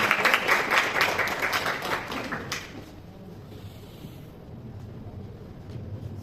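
Loud applause from a crowd at a prize-giving ceremony for a tournament, clapping steadily for about two and a half seconds before fading into quiet room noise.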